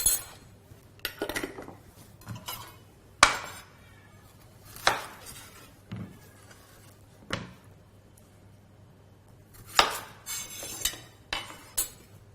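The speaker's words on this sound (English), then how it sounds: "Now we're going to grate our zucchini." Zucchini grated by hand, with intermittent rasping strokes and scraping bursts separated by short pauses, fairly close and alone with no talk.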